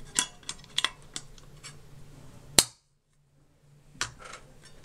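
Clips on a 4-inch Skyline fascia snapped on and off, with a few small clicks and one sharp, loud snap, a short silence, then another crisp click up close.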